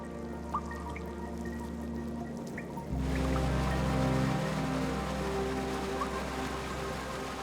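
An underground waterfall deep inside a pitch-black mountain cave gives a steady, rushing roar of falling water. The roar swells noticeably louder partway through and then continues evenly, with no voices.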